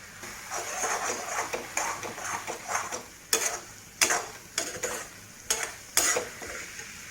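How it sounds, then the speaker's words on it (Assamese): Eggs poured into a pan of oil with fried tomatoes and stirred for an egg gravy, a soft sizzle under repeated sharp scrapes and knocks of a spatula against the pan, growing more distinct toward the end. "কণীকেইটা ইয়াত এনেকৈ ঢালি দিম।"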